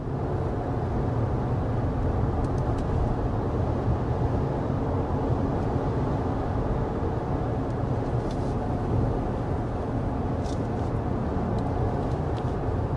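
Steady low rumble of road noise inside a midsize pickup truck moving at 55 mph, a constant broadband roar with no voices, cruising at highway speed.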